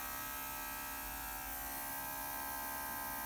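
A cordless airbrush compressor runs with its trigger held, giving a steady, close, continuous electric hum and buzz with no pauses or talk.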